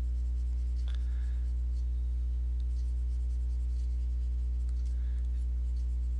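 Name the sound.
pen drawing and inking on paper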